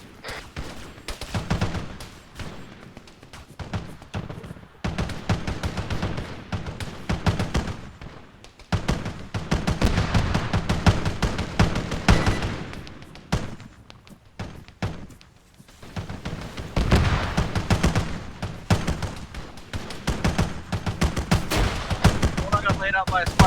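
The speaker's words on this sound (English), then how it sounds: "Taking fire." Gunfire in the military shooter Arma 3, Halo edition: dense automatic bursts rattle almost continuously, close and loud, pausing briefly near the middle before resuming in heavy volleys.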